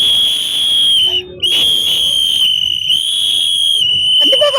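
Cricket fans whistle at a CSK vs MI match, a loud, sustained shrill whistle held almost continuously with a couple of brief breaks, close up, with crowd noise and voices behind it.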